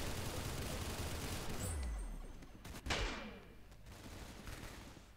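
Gunfire in the Roblox game Arsenal: a rapid burst of shots followed by a sharp, loud single blast near the middle, then scattered quieter reports with echoing tails against busy game background noise.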